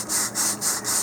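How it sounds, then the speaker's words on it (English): Sandpaper rubs back and forth across a model rocket part, four even, fairly loud rasping strokes in a steady rhythm, close by with no talking. "I'm just going to sand it back and forth, trying to keep it as uniform as possible here"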